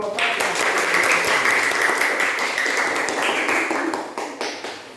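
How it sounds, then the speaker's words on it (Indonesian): Classroom applause for a student presentation group in an Indonesian fifth-grade lesson, many children clapping together in a loud steady burst that tapers off toward the end. "tepuk tangan untuk kelompok 4"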